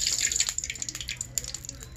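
Cooking oil poured into a heated karai over a clay stove while a whole goat is being cooked: soft, faint liquid drips and small splashes in a quick irregular run over a low background rumble.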